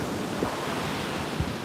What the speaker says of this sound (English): These are just peaceful waves.